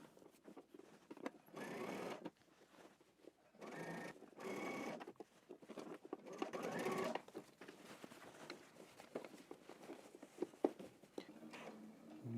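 A domestic sewing machine back-stitches a pant seam in short whirring bursts, running forward and reversing with brief pauses between runs, close and fairly quiet, with no talk.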